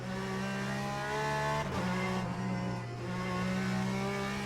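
Race car engine roaring steadily at Imola in the Le Mans Ultimate sim, a loud sustained drone with a brief dip and gear-shift change midway, no talk.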